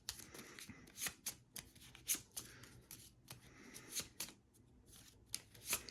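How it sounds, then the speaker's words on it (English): Close-up riffle and shuffle of a deck of cards during a game of Tiny Towns, a series of quick papery bursts and soft rubbing with no one speaking. "looks like I'll have to shuffle these up a bit"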